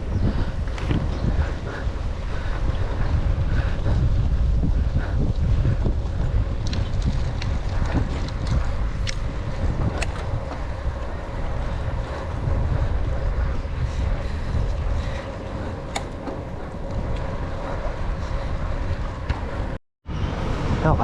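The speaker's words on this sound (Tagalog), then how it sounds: "Tapos mahangin." Wind blowing steadily across open grassland along a rural route, a continuous loud rush with microphone buffeting, constant throughout with a brief dropout near the end.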